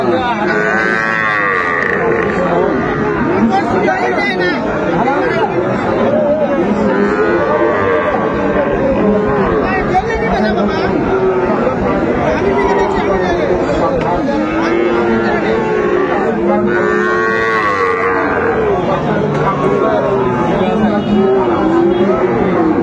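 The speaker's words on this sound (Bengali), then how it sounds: "শাহিওয়াল ষাঁড় বাচ্চা" Sahiwal bull calves moo again and again at a busy cattle market in Dinajpur, their calls overlapping and constant above a dense hum of crowd chatter and nearby voices.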